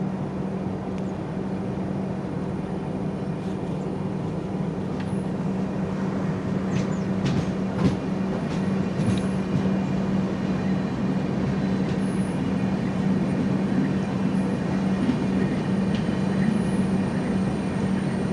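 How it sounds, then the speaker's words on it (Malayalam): Venad Express train arriving at Piravom Road station, a loud steady rumble of wheels and rolling stock with a low hum and occasional clanks and squeals, continuous and close, with no talking. "വേണാട് ഇപ്പോൾ വരും."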